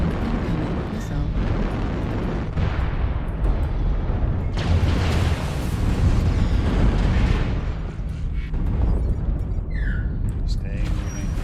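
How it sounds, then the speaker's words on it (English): Incoming missile explosion in a video game: sustained rumbling blasts and booming eruptions that roll on for several seconds, with a synthetic voice speaking over the noise. "Warning, incoming missile."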